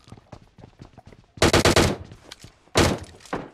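Automatic gunfire in the mobile battle royale game PUBG Mobile, two loud close bursts of rapid shots followed by a single shot, with quieter game sounds between.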